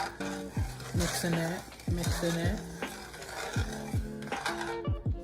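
Rice and peas being stirred in a pot, with rhythmic metallic scrapes and clanks of a utensil against the pot sides, close and fairly loud and repeating about once a second.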